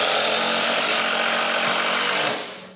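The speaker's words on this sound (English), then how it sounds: "This is a 3-inch drywall screws. 1, 2, 3, go." A $99 DeWalt or Makita impact driver drives 3-inch drywall screws in a loud, dense, continuous hammering rattle lasting over two seconds, then quickly cutting off, close and alone.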